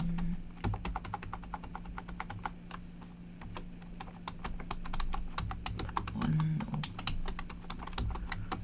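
Steady, brisk typing on a computer keyboard with Shift+Enter presses while entering text in a PowerPoint document. Keys click up close without pause, and there's a faint hum behind them.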